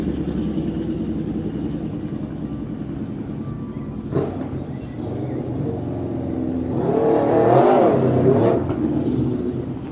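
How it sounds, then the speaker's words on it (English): An Alfa Romeo car's engine revs up and swells louder for a few seconds before easing off, heard over a steady roar of road and wind noise. "Possibly, is it an Alfa Romeo? Could be an Alfa."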